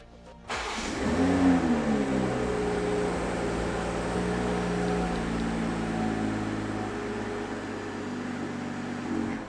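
BMW engine starting remotely in a garage, a sudden crank and catch followed by a brief rev flare and then a steady idle hum that continues for several seconds.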